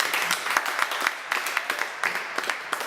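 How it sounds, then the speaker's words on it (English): An audience at a startup meetup in Sydney gives a round of applause. Many hands clap in a lively, uneven patter of distinct claps at moderate volume, and a few voices are faintly mixed in. "All right, big round of applause for Chris."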